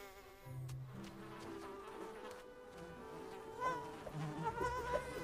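A dense swarm of buzzing insects in an animated film scene, making a continuous close drone with overlapping wingbeat tones that grows louder toward the end.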